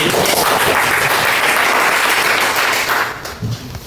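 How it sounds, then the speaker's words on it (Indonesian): Dense, loud applause from a group in a discussion session, continuous clapping for several seconds that thins out toward the end. "kita kasih tepuk tangan"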